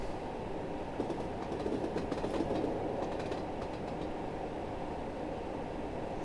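A BR Class 50 diesel locomotive on the Portsmouth Direct Line, heard as a steady rail rumble with clickety-clack wheel rhythm and faint squeals. The train sound swells briefly, then holds at an even level.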